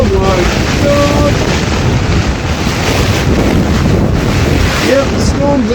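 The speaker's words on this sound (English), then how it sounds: "Yep, the storm's there." Storm Amy wind roars across the microphone with crashing sea waves aboard the ship Nordisk Oppland 3, a loud, constant buffeting broadband noise throughout, with faint voices briefly audible.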